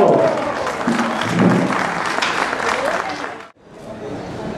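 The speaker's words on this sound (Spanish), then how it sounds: "¡Un aplauso!" An audience claps loudly and steadily with some crowd noise, then the applause cuts off abruptly near the end.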